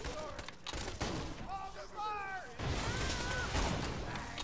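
Rapid bursts of gunfire from the shooter video game Borderlands 2, sharp cracks mixed with game effects and a character voice, fairly loud and continuous through the short stretch.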